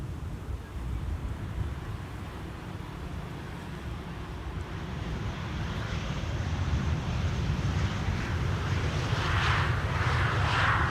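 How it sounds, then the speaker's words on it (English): A Transavia airliner landing on Schiphol's Polderbaan, a distant low engine roar that builds steadily and grows louder over the span, with a broad rushing hiss rising at the end. "Transavia flight 5356, landing here next"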